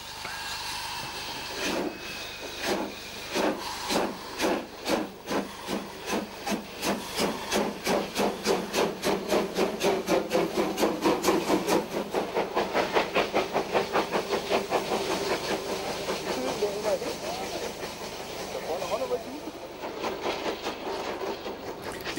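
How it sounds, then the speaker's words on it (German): A museum steam locomotive makes a staged run-past, its exhaust chuffs starting slow and quickening into a steady rhythmic beat with loud steam hiss, passing close and then easing off. "Für ein gutes Foto muss das Zugpferd mit Dampf und Qualm in Bewegung sein."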